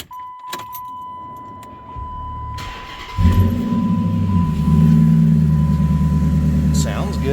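A 1970 Chevelle engine cold-starts after some handling noise and a steady tone, catching with a loud burst and settling into a rough, throaty idle that holds close and continuous to the end.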